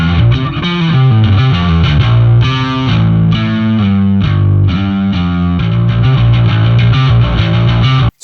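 Heavily overdriven modern metal bass, driven hard into an amp simulation in the Seismic Bass Suite plugin, plays a loud, dense riff with shifting notes and distorted grit for several seconds.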